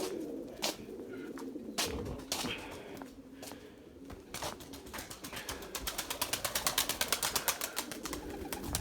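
Several Erzurum white pigeons coo softly nearby, with sharp clicks and rapid flutters of wings becoming frequent toward the end.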